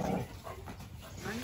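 A dog whimpers and pants near a newborn calf, with soft, high whines rising and falling close by as people talk over it.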